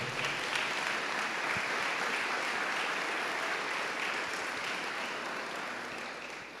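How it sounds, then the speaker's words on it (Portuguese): A church congregation claps loudly and steadily throughout, a dense sustained wash of applause filling the hall and tapering slightly at the end. "Aplauda o Senhor bem forte."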